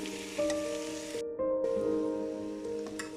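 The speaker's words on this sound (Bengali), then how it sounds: "আমি ঘিরা কলিজাটা দিয়ে দিছি এখন খুব ভালোভাবে ভেজে নিব" Goat brain and liver frying with spices in a pan for a satkara bhuna, giving a steady close sizzle with stirring noises throughout.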